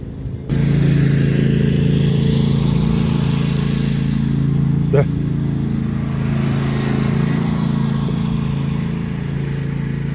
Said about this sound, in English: How cool is it to be a kid and just drive around on a tractor all day long?